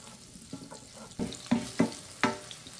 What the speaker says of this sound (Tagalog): So, ila-light brown muna natin to bago natin isunod yung sibuyas.